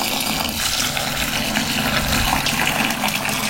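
Water pours from a tap into a bowl of lentils and chana dal for washing, a steady, close gushing splash that runs continuously at an even level without talk.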